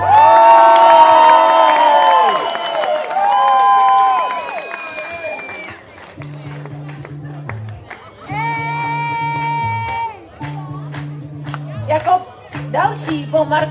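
A village crowd at a local talent show cheers and applauds loudly, with shouts and whoops rising over clapping, then dropping away as a voice talks, music-like tones and bursts of crowd noise returning intermittently.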